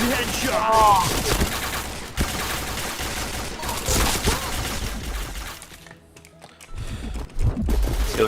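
Rapid bursts of gunfire from a shooting video game crackle in dense volleys, with short gaps and a brief lull, while a player talks over the action.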